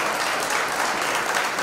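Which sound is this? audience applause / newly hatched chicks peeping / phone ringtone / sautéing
audience applause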